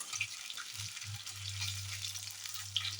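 Chili chicken fritters fry in hot oil in a kadai, giving a steady, close bubbling sizzle with faint crackles and a low hum underneath.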